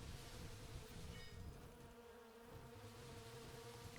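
Bees sent by the Swarm boss in a helicopter video game make a faint, steady insect buzz that holds throughout over a low game background.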